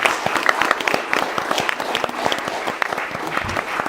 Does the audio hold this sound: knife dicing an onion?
no